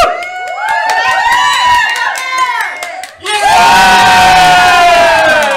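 A game show studio audience cheers and whoops loudly, with scattered shouts at first. The noise dips briefly and then surges into a dense, sustained roar of cheering.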